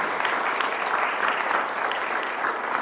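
Banquet guests applaud in a steady, dense round of clapping, many hands at a moderate, even level throughout with no voices on top.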